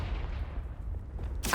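Confringo blasting spell explosion in Hogwarts Legacy, a deep rumbling boom that fades away slowly before a sharp new burst cuts in at the very end.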